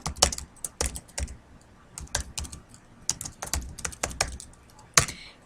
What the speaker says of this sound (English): now I'm going to type the address of the person receiving the letter